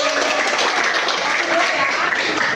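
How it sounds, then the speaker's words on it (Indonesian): Students in a classroom give a short, even burst of applause, many hands clapping at once in a continuous wash that lasts a couple of seconds. "Oke, tepuk tangan semuanya."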